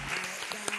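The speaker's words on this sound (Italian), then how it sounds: "Un applauso a Lorenzo e Daniela Salomi" Studio audience applause on an Italian TV cooking segment, a brief wash of clapping under faint background music tones, with a few sharper claps standing out.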